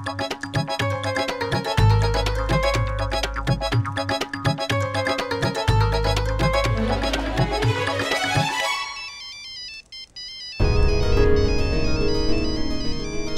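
A phone ringtone plays a repeating electronic melody, loud and close, then gives way to a different tune near the end.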